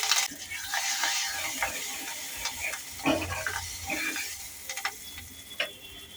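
Cumin, mustard seeds, asafoetida, turmeric and curry leaves sizzle in hot ghee as a tempering for dal, a crackling hiss with scattered pops and stirring clinks, no talk.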